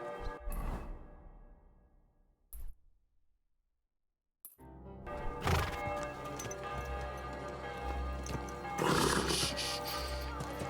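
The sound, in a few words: horse neighing and hooves in Kingdom Come: Deliverance II, video game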